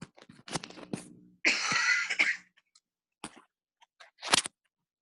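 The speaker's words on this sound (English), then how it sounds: "I got a bit of a cough" A person coughs and clears their throat in a short, harsh burst near the mic, with a few smaller throat sounds and pauses before and after.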